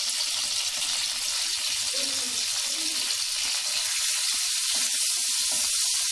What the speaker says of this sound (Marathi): लसूण छान परतून घेणार आहोत आपण.